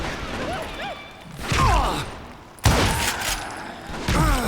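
Gunfire in the Call of Juarez Gunslinger western shooter game: a few sharp blasts at moderate loudness, one strong report near the middle, mixed with swooping game effects and a busy background.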